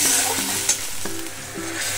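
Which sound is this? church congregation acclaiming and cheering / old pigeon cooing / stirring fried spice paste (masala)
stirring fried spice paste (masala)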